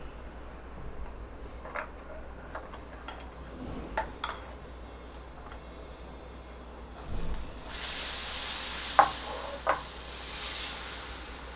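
Puffed rice dosa batter meets a hot griddle over a medium flame, breaking into a steady, bright sizzle partway through, with a few sharp clicks over a quiet kitchen background.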